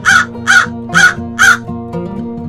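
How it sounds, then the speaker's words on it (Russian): Raven cawing four times in an even rhythm, loud and close, each harsh call about half a second apart, followed by a fainter trailing sound. "Ворон."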